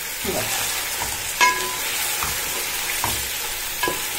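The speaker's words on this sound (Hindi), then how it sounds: "ये तकरीबन हमारा गोश्त भून चुका है" Meat for Delhi nihari sizzling and frying in a pot, a steady hiss broken by a few scraping stirs of a utensil, close and alone with no talk.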